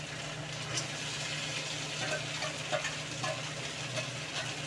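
Bitter gourd frying in a pan with garlic, chili, turmeric, cumin, coriander-cumin and salt, a steady close sizzle with faint scattered stirring clicks, no voices.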